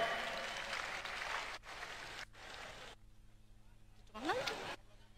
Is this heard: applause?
yes